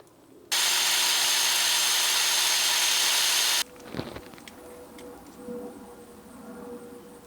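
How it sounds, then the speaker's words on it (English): Dowel pins being shaved down during a Yamaha FZ1 supercharger install, heard as a loud, steady power-tool whine for about three seconds that stops abruptly, followed by quieter clinks and handling noises. "we have to take out the dowel pins and shave them down"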